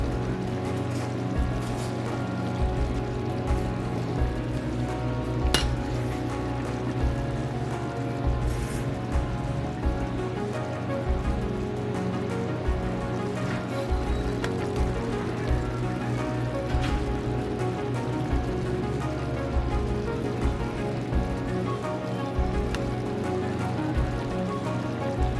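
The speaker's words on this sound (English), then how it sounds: "So you can see here, it's bubbling. I want you to hear the sound." Trinidad pelau of rice and meat simmers in a pot, a continuous soft bubbling and popping crackle, close and steady without talk.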